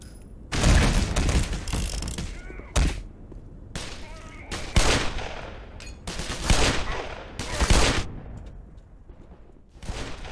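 Player's own weapon in Black Mesa firing in separate loud bursts of shots, spaced a second or two apart, with mechanical clatter from the gun between them and no voices over the shots.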